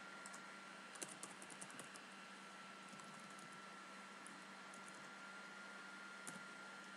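Quiet, steady tapping on a computer keyboard as code is entered, with irregular soft keystroke clicks over a constant background hiss and low hum.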